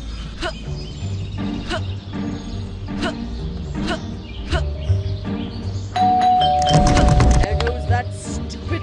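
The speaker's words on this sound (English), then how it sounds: "Bell again." A doorbell chimes again and again in a steady ding-dong pattern, then gives a louder, denser ring near the end. It is close and clear over a low background hum.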